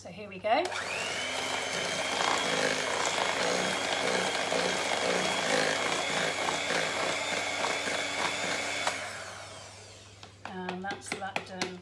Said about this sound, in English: this is our last time whisking with the electric whisk.